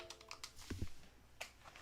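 Quiet clicks of a computer keyboard as keys are tapped in short bursts, with a brief thump in the middle.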